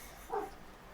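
A single dog bark, short and faint, sounds once at a distance against a quiet room background.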